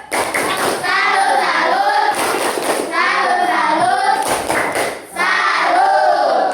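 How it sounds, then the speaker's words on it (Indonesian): A school class performs a rhythmic salute clap, with bursts of hand claps breaking through loud, sustained group chanting by children's voices. "Tepuk tangan, kasih tepuk salut."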